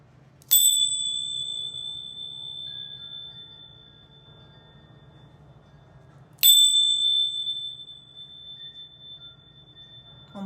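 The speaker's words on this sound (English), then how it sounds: "I am going to ring my bells real quickly, though, just to clear the space" Two bright bell strikes rung to clear a space, each ringing out sharply and fading slowly over several seconds, spaced about six seconds apart in a quiet room with a low hum.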